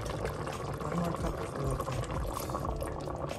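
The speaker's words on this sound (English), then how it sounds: "And then we're adding 1 cup of water." Water poured into beef bolognese sauce in an Instant Pot, producing a steady close splashing and gurgling that runs throughout at moderate loudness, with a voice talking over it.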